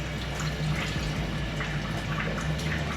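Water poured into a cooking pot of stuffed vine leaves, a steady low splashing and trickling stream that runs evenly throughout at close range, with no talking over it.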